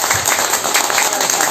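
A live audience claps for a tenor singer at a book launch event in Goiás, Brazil, a short steady burst of applause with voices mixed in.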